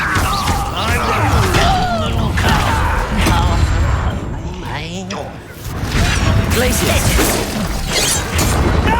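Incendio fire spells cast during a Hogwarts Legacy battle at an estate, making loud continuous bursts of roaring, crackling fire and impacts blended with dense combat effects that fill the whole clip.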